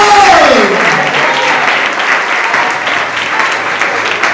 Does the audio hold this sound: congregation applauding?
yes